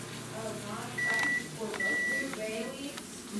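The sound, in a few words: microwave oven running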